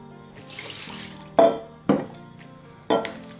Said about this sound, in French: Je vais rincer encore une deuxième fois.